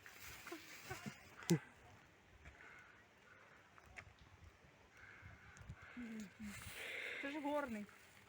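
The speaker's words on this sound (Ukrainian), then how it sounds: "Катя, диви, козел. І він йде до нас, козел." A goat at a small enclosure zoo in Yaremche gives short, faint, wavering bleats near the end, under close conversation between people in an outdoor setting.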